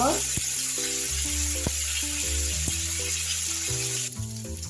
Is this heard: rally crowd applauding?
no